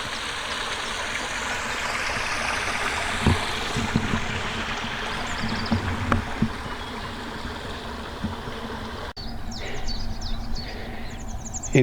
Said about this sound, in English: Relaxing sound of the waterfall.